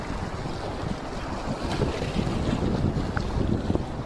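A fishing boat off Karaikal cuts steadily through the sea, with a continuous rushing wash of water and heavy wind buffeting the microphone from start to finish, and no voices.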